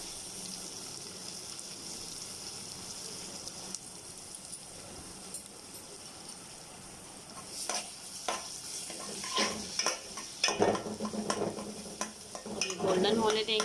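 Onions frying in oil in a pan while being stirred for a dhaba-style dal mash, a steady sizzle building into louder scraping stir strokes and clatter toward the end, with no talk.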